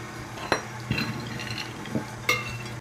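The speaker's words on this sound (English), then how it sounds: "now I'm going to mix it up with the crushed crackers" A spoon stirs Nutella with crushed crackers and hazelnuts in a bowl, with scraping and a few sharp clinks against the bowl, close and without talking.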